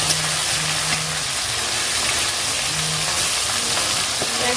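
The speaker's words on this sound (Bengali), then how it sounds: "অপর সাইডেও ভাজা হয়ে গেছে" Steady sizzle of bhola fish frying in a pan, loud and continuous throughout, with a low hum and occasional faint clinks underneath.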